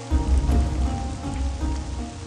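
Steady rain falls and patters on surfaces, a continuous close wash of drops with a low rumbling undertone and no voices.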